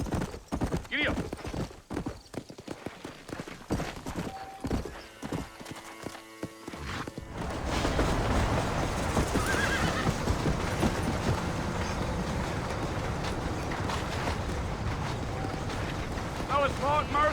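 Horse hooves clip-clop steadily on a trail in the western game Red Dead Redemption, loud and continuous through most of the stretch with occasional whinnies, after an opening of voices and sparse effects.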